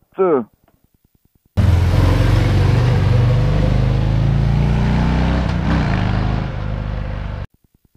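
Harley-Davidson FXDR 114 motorcycle engine starts after a short pause and runs loud and steady close by, a deep throbbing rumble with a slight rev change near the end before it cuts off.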